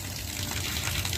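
Water gushes out under released pressure from a gate valve being drained after a hydraulic test following repair, a loud, steady broadband rush lasting about a second with no voices.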